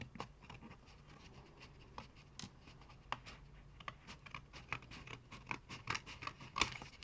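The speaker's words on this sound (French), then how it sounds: "vous allez couper le blanc qui dépasse au ciseau" Scissors snipping away excess white paper around a handmade paper envelope, a quick irregular series of small crisp cuts, close and fairly quiet over faint background noise.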